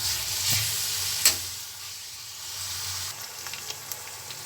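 Chicken pieces marinated in ginger paste, garlic paste, soy sauce and ground black pepper frying in oil, giving a steady close sizzle with a few light stirring scrapes and clicks, no voices.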